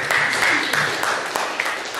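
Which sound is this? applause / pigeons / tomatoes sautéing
applause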